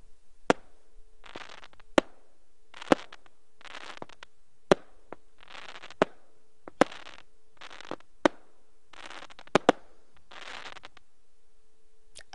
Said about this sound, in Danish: for en gang skyld må man sige, at de laver godt fyrværkeri